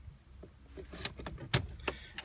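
Keys jangling near a 1986 Vauxhall Cavalier MK2, brief metallic clinks and rattles at close range with a louder burst near the middle and occasional knocks from the car.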